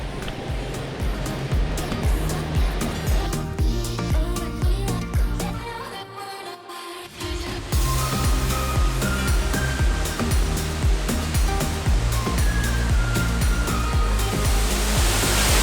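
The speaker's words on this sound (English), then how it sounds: "You can already hear the waterfalls." Gili waterfall in Lombok, Indonesia, pours as a loud, steady broadband roar that holds throughout and briefly dips midway before returning at full strength.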